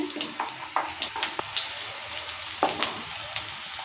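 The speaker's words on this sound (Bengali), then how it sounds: "গোটা জিরেটাকে ভেজে নিলাম" Whole cumin seeds frying in hot oil in a pan, a steady close sizzle with scattered sharp pops and crackles and light stirring scrapes throughout.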